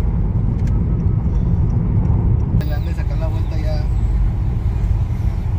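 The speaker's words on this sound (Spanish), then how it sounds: "Por el pinche tráfico de playa" Cars in slow beach traffic in Tijuana, Mexico make a steady low rumble of engines and tyres throughout, with a brief higher-pitched swell of a passing vehicle midway.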